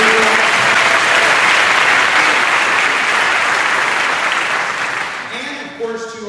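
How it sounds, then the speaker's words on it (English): A crowd at a town hall gathering in Long Beach, California breaks into loud, dense applause that holds steady before tapering off, with a voice beginning to speak as the clapping fades. "Let's give them a round of applause."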